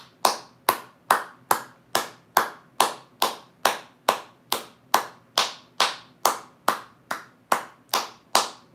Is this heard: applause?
yes